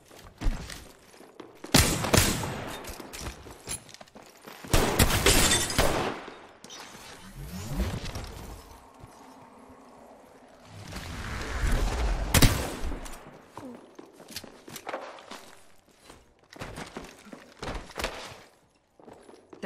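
Gunfire in the battle royale game Apex Legends, coming in several loud bursts of rapid shots separated by quieter stretches with thuds and footsteps.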